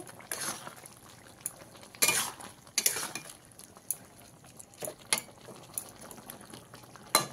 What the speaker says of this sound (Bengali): দিয়ে ভালো করে মিশিয়ে নেব।